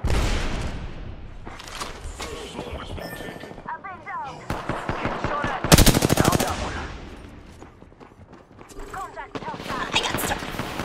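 Automatic weapon fire in the Apex Legends video game, rapid volleys and a loud close burst amid game effects, with a player talking over parts of it.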